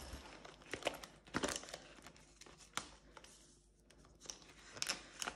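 Banknotes pushed into a paper cash-stuffing budget envelope, close rustling and crinkling of paper with a few sharper rips and taps, fairly quiet and with no talking.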